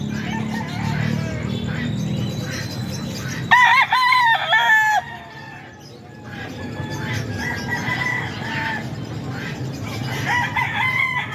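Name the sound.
stag gamecock rooster crowing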